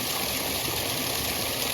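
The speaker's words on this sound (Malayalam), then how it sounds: "ഇതിന്നാണ് വെള്ളം പോണല്ലേ ചെറുതായിട്ട്." Water running through a channel in a paddy field, heard as a steady, close, continuous rushing and trickling wash with no pauses and no talk.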